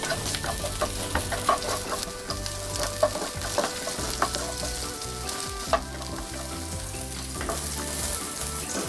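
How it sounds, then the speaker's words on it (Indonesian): Garlic and ginger fry in a little leftover oil, a loud, crackling sizzle that runs steadily with sharp pops and spatters. A utensil stirs the pan now and then, and nobody talks. "sisakan sedikit minyak dan goreng bawang putih dan jahe"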